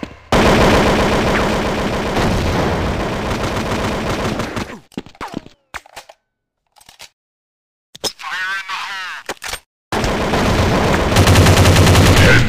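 Gunfire from Critical Strike Force, a Counter Strike style Android shooter game: loud bursts of rapid automatic shots in the first five seconds, a few scattered single shots through quieter gaps, then another heavy burst near the end.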